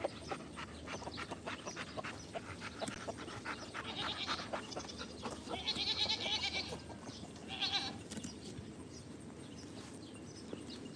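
A goat named Maisie pants on a farm, a faint, quick, breathy rhythm heard close by in a quiet setting, with a few soft bleat-like bursts near the middle.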